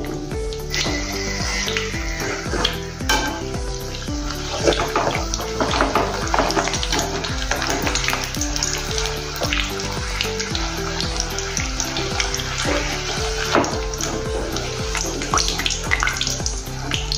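Papdi frying in hot oil gives a loud, dense, continuous bubbling sizzle that holds steady throughout, close to the pan, with no voices.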